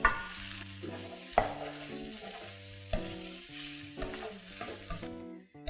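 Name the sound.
stir-frying chicken kelp noodles with tomatoes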